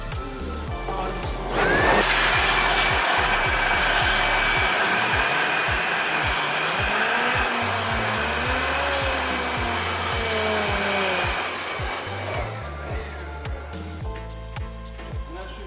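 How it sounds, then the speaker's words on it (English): A blower or compressed-air jet roars steadily and loudly across the fan wheel of a Concept 2 rowing machine for about ten seconds, starting abruptly and tapering off, with faint clicks and handling noises before and after. "take like a blower, or you can take some compressed air, and then just kind of pull on it a couple times, and then blow the fan at the same time"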